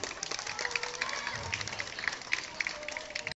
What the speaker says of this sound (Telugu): క్లాప్ గట్టిగా.